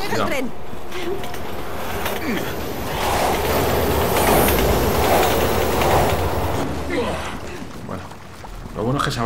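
A train rumbles past in the video game Resident Evil 6, a steady loud roar with rattling wheels that swells in the middle and fades, over game ambience.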